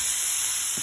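Meatballs going into an oil-sprayed pan for sweet-and-sour meatballs give a steady, close sizzle that holds evenly for under a second with no talk.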